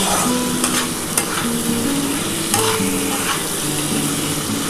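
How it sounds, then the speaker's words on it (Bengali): Masala being stir-fried in a pan for a katla fish curry with potato, ginger and cumin paste, a loud, steady sizzle with constant scraping strokes of a spatula, close and without pauses. "খুব ভালো করে কিন্তু মশলাটা কষাতে হবে।"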